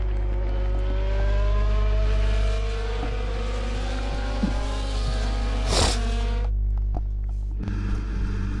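In the F1 24 video game, race cars launch off the start line at the Netherlands round. Engines rev and climb together in a loud, layered roar, then a sharp burst near the end as the cars pull away.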